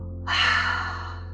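A single deep, deliberate exhale during a guided breathwork session, a breathy rush that swells in quickly and then slowly tapers off, close and fairly loud over a steady low background hum.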